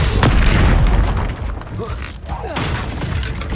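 Spell blasts from the Confringo fire curse in the video game Hogwarts Legacy, loud booming explosions layered over dense combat noise and music, with heavy low rumble throughout.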